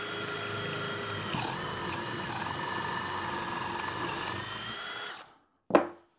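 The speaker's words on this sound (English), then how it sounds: "drill a nice square hole" A power drill whines steadily as it bores a hole into timber for about five seconds, then stops, followed by a single sharp knock.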